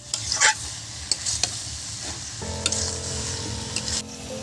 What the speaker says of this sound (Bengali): বন্ধুরা, এটাকে দেখুন জাস্ট একটু নেড়ে চেড়ে নেওয়া।